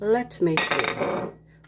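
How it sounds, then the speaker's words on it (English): Pots, pans and cutlery clanking and banging around a kitchen while baking brownies, loud and close, with a person talking briefly over the clatter. "Just clanking and smacking stuff around."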